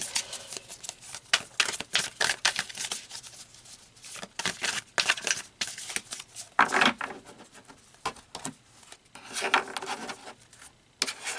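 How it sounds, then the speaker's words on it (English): Large tarot cards being shuffled by hand, giving dense papery riffles and flicks in irregular bursts, close and fairly quiet, with no talking. "And I want to shuffle these, but ooh, these cards are big"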